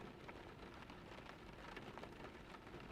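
Steady rain falls in misty Irish countryside, a soft, even hiss of drops that stays faint and unbroken throughout, with no voices.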